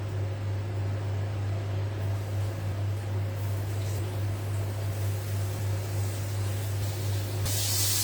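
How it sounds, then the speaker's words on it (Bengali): Flour-coated fish fries in a hot pan with a continuous, even hiss of spitting oil and a low steady hum beneath, with no talking. "দেখুন পাচ্ছেন আমার ফিশ ফ্রাই হচ্ছে"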